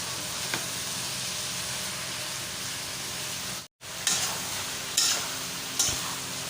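Broiler chicken meat fries in a pan with a steady, close hiss of sizzling, broken by a brief dropout and a few sharp clatters of stirring near the end.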